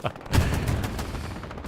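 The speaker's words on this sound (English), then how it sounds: "Solid flamethrower action." A flamethrower firing in the World War II shooter Hell Let Loose during a fight at a chapel on Utah Beach, a loud, dense, continuous roaring burst lasting under two seconds.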